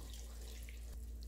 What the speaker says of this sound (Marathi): गरजेनुसार पाणी वाढवायचं.